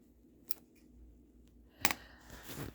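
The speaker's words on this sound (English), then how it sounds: "I've got the bobbin thread, which is a loop, and I will cut right to the surface" Scissors snip bobbin thread right at the surface of a quilt on a domestic sewing machine setup: two crisp, close cuts about a second apart in an otherwise quiet room.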